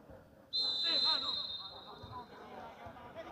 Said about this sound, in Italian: Arbitro che fischia il fallo da parte